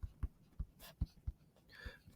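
Pen or marker writing out a chemistry problem: a faint series of short taps and scratchy strokes at an uneven rhythm, quiet and close, with no talking.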